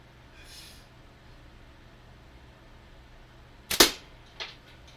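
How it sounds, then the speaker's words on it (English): A single sharp, loud blast from a can being exploded, followed moments later by a smaller secondary pop against quiet outdoor background, with a faint hiss just before; no voices. "I started exploding things instead"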